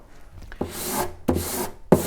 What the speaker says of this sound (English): I'm going to start with 120 sandpaper. This is really quite coarse